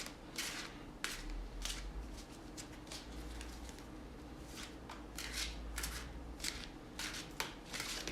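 Tarot cards being shuffled by hand, repeated bursts of riffling and sliding card noise in an irregular rhythm, close and fairly quiet over a steady low background hum, no talking.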